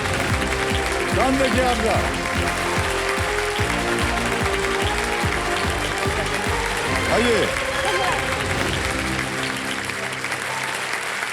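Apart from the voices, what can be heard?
studio audience applause on KBC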